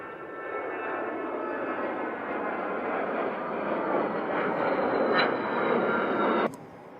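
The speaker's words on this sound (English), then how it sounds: "there's a Gulfstream 5," Gulfstream 5 (G5) business jet at Centennial Airport, a steady, broad engine roar that builds slightly before cutting off abruptly near the end, heard from a distance with no voices.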